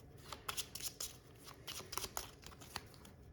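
A deck of trading cards is shuffled by hand, producing soft, quick riffling and flicking bursts in an irregular patter, close and fairly quiet, with no talking.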